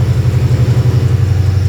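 A car idles through a street exhaust, a loud, close, low rhythmic burble pulsing evenly with no voices over it.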